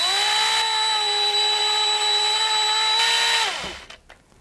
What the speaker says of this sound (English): this hole will be drilled with a 1/8 of an inch bit here